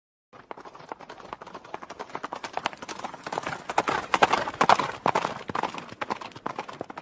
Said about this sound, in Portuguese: O cavaleiro preto galopava sobre a terra.